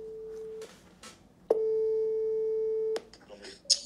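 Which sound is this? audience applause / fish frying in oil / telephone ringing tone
telephone ringing tone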